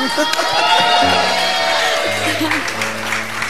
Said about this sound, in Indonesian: Oke, tepuk tangan lagi dong buat Marcanda dong